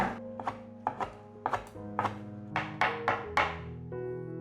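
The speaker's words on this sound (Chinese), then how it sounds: "现在给它切成小碎丁" Knife chopping king oyster mushroom into small dice on a cutting board: about ten sharp, close strikes at an uneven, quickening pace, standing alone with no talk.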